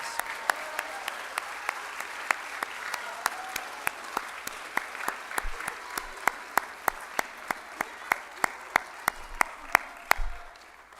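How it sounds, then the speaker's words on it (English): A school audience applauds award winners at a spring play ceremony, steady clapping under a few louder, sharper individual claps, with faint talk in the background. "Give them a round of applause."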